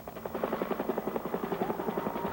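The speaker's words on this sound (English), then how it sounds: "his helicopter touched down at the Oxford airport" A presidential helicopter landing at Oxford airport in Connecticut, its rotor thumping in a fast steady beat over a dull engine roar, moderately distant and alone without speech.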